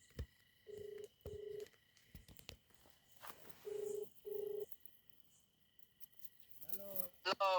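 Short electronic keypad tones from a phone being dialed for a kidnapping call beep in two pairs, separated by quiet stretches. A voice breaks in briefly near the end.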